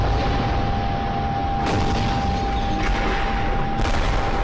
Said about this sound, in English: No effect of those rockets.